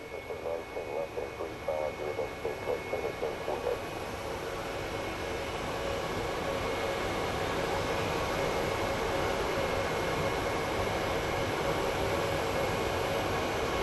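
An airliner taxiing at Phoenix Sky Harbor airport gives off a steady, broad jet roar that holds for the whole stretch, with a faint voice-like murmur early on.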